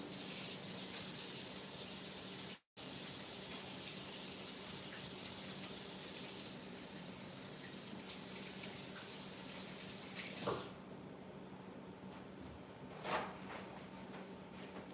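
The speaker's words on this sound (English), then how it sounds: "Let me wash this blue dye off my hands." Tap water runs steadily into a sink as blue dye is washed off hands, a continuous close hiss and splash with a brief cutout and a few louder splashes near the end.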